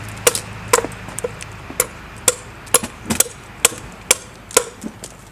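Hammer blows striking a cold copper pipe, about a dozen sharp metallic clanks at an irregular, unhurried pace with brief ringing after each, moderately close and with no talk.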